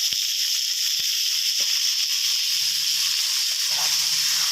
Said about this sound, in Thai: เราก็ ใส่หมูสับลงไปผัดเลยนะครับ